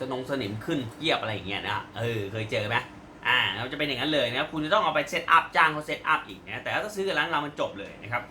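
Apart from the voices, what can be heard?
No distinct noise like a dog, phone or traffic.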